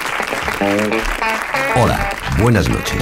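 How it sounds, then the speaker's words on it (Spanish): Applause and crowd noise fill the room while someone speaks over it, his voice clear above the steady clapping. "Un fuerte aplauso"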